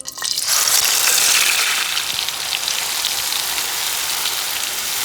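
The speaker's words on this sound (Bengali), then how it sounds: "গ্যাসের আঁচটা কমিয়ে আমি এখন মশলাটাকে কষিয়ে নেব" Spice paste frying in two tablespoons of hot oil for a chicken dish, a loud broadband sizzle bursting up as the paste hits the pan, then settling into a steady, close crackle with no talking.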